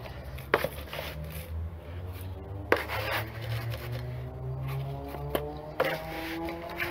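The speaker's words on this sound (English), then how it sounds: "Let's compact it down a bit." Wet sand is packed down into a sand castle mould, giving a few sharp tapping knocks spaced a second or two apart over a low, steady scraping and rubbing.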